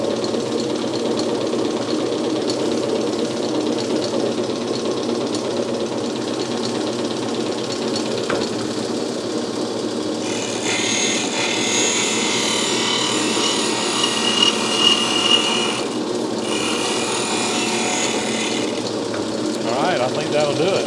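A Sellers 6G drill grinder in a machine shop runs steadily while grinding a twist drill bit, with a constant motor hum and a hissing, scraping grind that swells in bursts during light passes, heard close.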